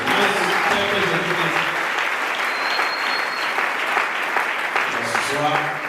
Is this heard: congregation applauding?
yes